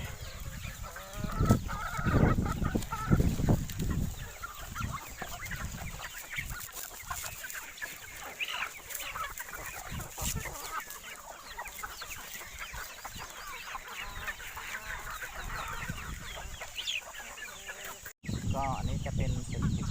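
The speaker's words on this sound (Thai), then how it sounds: "ก็จะเลี้ยงไก่" Chickens cluck and call around a small self-sufficient Thai poultry farm, with scattered nearby clucks and a faint background hum. Someone talks at times.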